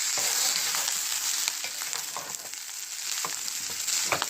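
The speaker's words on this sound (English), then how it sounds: "Once you add the rice and the peas and let it cook for about 2 or 3 minutes" Fried rice with frozen peas frying in a pan, giving a loud, close, continuous hissing sizzle with small crackles and light stirring scrapes, with no talking.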